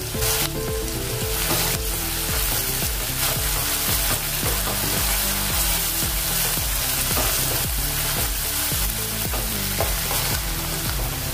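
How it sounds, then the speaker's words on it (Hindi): Finely chopped onion frying with crackling cumin seeds in a pan makes a continuous, busy, close sizzle that holds steady throughout, with no voices. "अभी इसको हम अच्छे से भूनेंगे थोड़ा कलर आने तक।"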